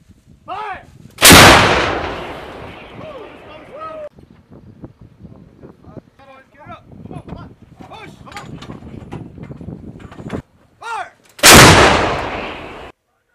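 A US artillery gun firing during an exercise in Croatia: two very loud, close booming blasts about ten seconds apart, with crew voices talking in the quieter stretch between them.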